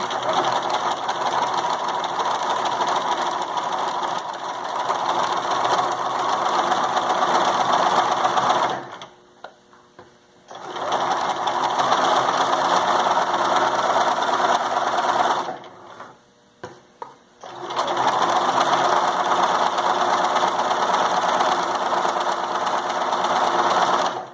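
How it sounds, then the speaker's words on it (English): A sewing machine stitches the sides of a drawstring bag in three long, loud, steady runs of rapid whirring, with two short pauses holding a few brief stops and starts. "I'm going to sew all the way to the very edge"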